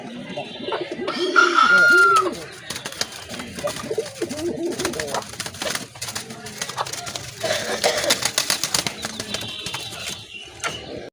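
A pair of Madrasi Golla pigeons cooing in soft, repeated throaty bursts, mixed with mechanical clicks and rattles and some indistinct nearby voices.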